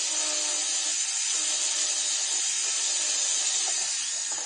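A small rotary round bur on a tool runs while making beads, giving a continuous high-pitched whirring hiss, steady and fairly loud, with faint low knocks underneath and no voices.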